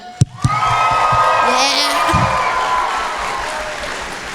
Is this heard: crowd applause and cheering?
yes